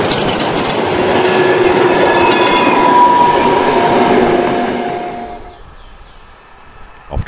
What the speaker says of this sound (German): Doch der Pendelzug fährt weiter über das Dreischienengleis nach Lauterbach.